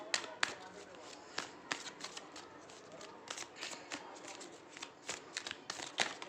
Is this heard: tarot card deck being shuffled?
yes